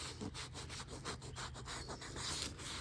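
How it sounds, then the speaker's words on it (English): Folded sandpaper rubs along the seams of perforated leather in quick back-and-forth strokes, a close, soft scratchy rasp repeating steadily with no talking. "I will fold the sandpaper, get down in there and just sand that really well"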